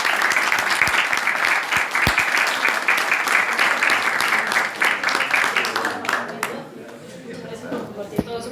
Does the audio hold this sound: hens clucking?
no